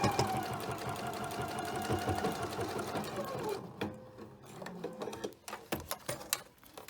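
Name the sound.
sewing machine top stitching a purse pocket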